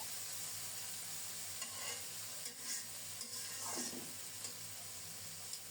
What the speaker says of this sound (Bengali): বেগুনগুলোকে একটু ভালো করে ভেজে নেব।